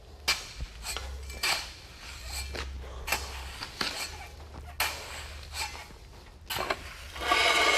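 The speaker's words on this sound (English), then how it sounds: "And then we'll start spreading the sand as evenly as possible." Sand is shoveled and raked across a compacted base while spreading it for paver screeding. Uneven scraping and gritty rubbing strokes come at close range, with occasional sharper scuffs and a louder burst of scraping near the end.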